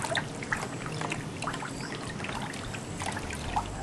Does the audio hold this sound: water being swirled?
yes